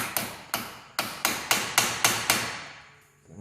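Hammer striking a Toyota RAV4 front strut part to bust it loose: eight sharp metallic blows in a steady rhythm, close and ringing, then silence.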